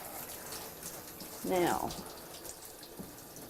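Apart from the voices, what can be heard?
water running from a tap during a dog bath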